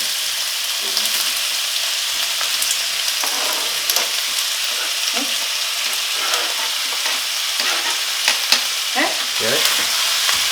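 Vegetables with fresh ginger and turmeric frying in a steel pan, a loud, close, continuous sizzle broken by scraping and clattering strokes of stirring.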